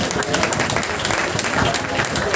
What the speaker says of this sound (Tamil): நமது கைத்தட்டக்கார வாழ்த்துக்கள்